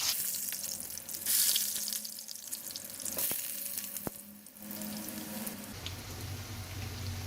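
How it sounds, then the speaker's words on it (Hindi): A burger patty fries in hot oil, a steady close sizzle with soft crackles and a couple of sharp pops, continuing without any talk. "यहाँ पर मैंने ले लिया है ऑयल और हम रख देंगे बर्गर पेटी फ्राई करने के लिए"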